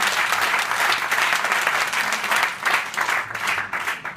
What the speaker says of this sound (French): on peut encore les féliciter, les applaudir